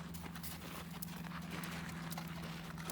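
Horse hooves striking the ground under a rider as the mount comes down from canter to trot, a steady close rhythmic clip-clop over continuous low rumbling noise.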